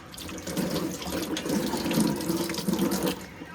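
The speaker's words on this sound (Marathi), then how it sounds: "आपण आता हात धुवून" A kitchen tap runs steadily while hands are washed at a sink, the water splashing continuously for a few seconds at close range with no talking.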